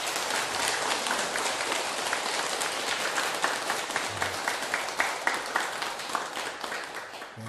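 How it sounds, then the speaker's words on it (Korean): An audience clapping at a Korean dharma lecture, a sustained crowd applause with many distinct hand claps, fairly soft and even throughout, with no voices over it. "제대로 되면 박수 한번 치고."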